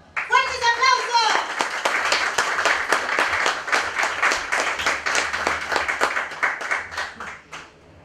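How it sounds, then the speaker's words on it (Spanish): An audience claps in loud, steady applause at a dance performance, the dense patter sustained for several seconds after a brief burst of a voice at the start. "¡Fuertes aplausos!"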